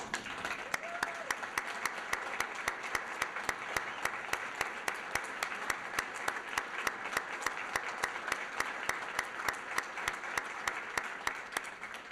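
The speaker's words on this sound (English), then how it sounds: "get a round of applause" Sustained audience applause in a city council chamber at a service awards event, many hands clapping steadily and loudly throughout, with a faint voice briefly audible near the start.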